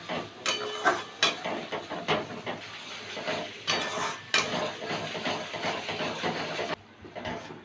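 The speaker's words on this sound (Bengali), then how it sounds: "হাফ চামচ লঙ্কার গুঁড়ো দিয়ে দিলাম দিয়ে এবার মশলাটাকে কষাবো" Turmeric and chili powder spice masala sautés in a pan for a Bengali katla fish kalia, giving a loud, steady hiss with scattered metallic scrapes and clinks of a spoon against the pan, ending abruptly near the close.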